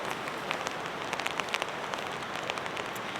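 Rain pattering steadily on a tunnel tent at a winter mountain campsite, a dense close hiss of drops with scattered sharper taps, no voices.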